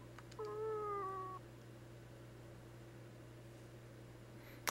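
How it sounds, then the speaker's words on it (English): A cat meows in a video game, Fragile Dreams: one drawn-out, wavering meow near the start, clear against a steady low electronic hum, followed by quiet background. "It's the same cat from before."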